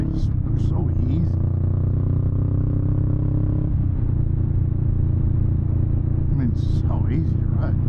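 A 2022 Honda Rebel 500 ABS motorcycle engine while riding, a loud, steady low rumble close up with wind noise throughout and a few brief higher clatters, someone talking over it.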